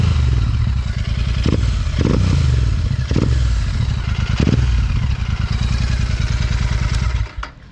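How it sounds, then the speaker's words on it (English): A Royal Enfield Super Meteor 650 with a Red Rooster exhaust rumbles steadily, with several sharp popping bursts from the exhaust scattered across it, loud and close, before it cuts off near the end. "The Red Rooster exhaust does give the bike some sort of pops and bangs."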